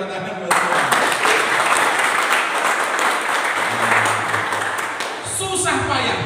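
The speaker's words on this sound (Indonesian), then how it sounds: "Ya, tepuk tangan buat Tuhan." A church congregation claps together in a dense, energetic burst that starts abruptly and runs several seconds, with faint voices beneath and some music creeping in near the end.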